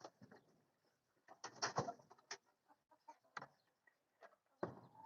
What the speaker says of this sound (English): So chickens are currently locked in, but we can feed them.